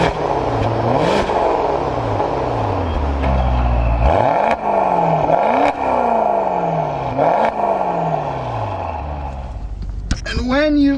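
A car engine in sport mode revs hard through repeated rising and falling sweeps, loud and close, with a throaty exhaust roar and brief crackles between gear shifts and a burbling finish.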